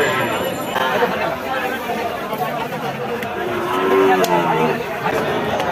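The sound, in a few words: cattle at a livestock market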